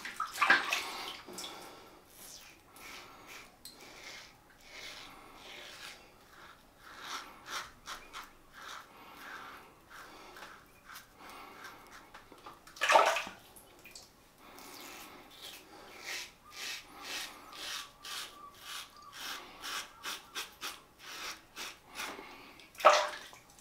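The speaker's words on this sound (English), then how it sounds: "plenty of audio feedback from the razor, as you're probably picking up just then" An Edwin Jagger 3one6 safety razor scrapes across lathered stubble in quiet, close, irregular strokes, faint rasping bursts with a few louder swipes and pauses between.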